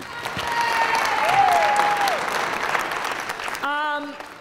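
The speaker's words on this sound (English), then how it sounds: "So please give a round of applause for Carmen Budier" Diners at a retirement dinner applaud, a broad swell of clapping that builds, peaks and then eases, with a cheer audible in the crowd and a voice speaking near the end.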